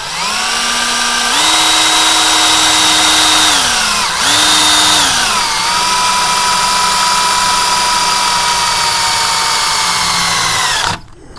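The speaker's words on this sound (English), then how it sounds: "I'll come back over here and drill my holes." A power drill whines loudly and continuously while drilling holes for a soft wash system build, its pitch rising and dipping as it bites into material, then cutting off at the end.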